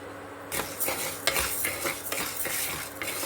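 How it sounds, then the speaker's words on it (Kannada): Spice seeds for homemade sambar powder dry-roast in a pan while a utensil stirs continuously, producing a steady loud rustling, scraping hiss with periodic metallic scrapes, close up and without talk. "ಈ ಒಂದೊಂದೇ ಕಾಳುಗಳನ್ನ ಹಾಕ್ಕೊಂಡು ಹುರಿಯೋಣ"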